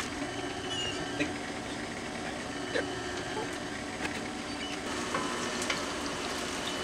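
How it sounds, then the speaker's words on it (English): Onions frying in a pan for marinara sauce give a steady, even sizzle close up, with faint stirring ticks now and then and a voice in the background. "We've got our onions cooking."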